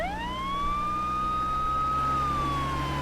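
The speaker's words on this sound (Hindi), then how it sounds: "वो पुलिस जीप है या एम्बुलेंस है?" A police jeep or ambulance siren in a dense jungle sounds one sustained, loud electronic wail that rises and then slowly falls, with no voices over it.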